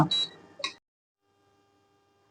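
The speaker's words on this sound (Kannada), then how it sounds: "ಈಗ ಆಫ್ ಮಾಡ್ತಾ ಇದೀನಿ ನಾನು ಸ್ಟೌನ" An electric stove beeps as it is switched off: two short high electronic beeps close together, followed by a faint lingering tone and near silence, with a click at the very end.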